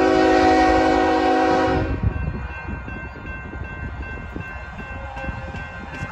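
A CPKC freight train led by a GE locomotive and hauling grain hoppers in Houston, Texas sounds a loud, sustained horn blast, then rumbles and clatters steadily past nearby.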